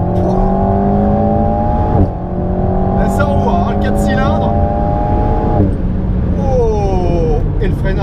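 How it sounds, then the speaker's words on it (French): Alpine A110 GT four-cylinder sports car engine revving hard in sport mode on a long straight, strong rising and falling harmonic pitch sweeps with gear changes and brief exhaust pops, recorded close from inside, with talk over it. "pop de l'échappement qui sont assez présents en mode sport"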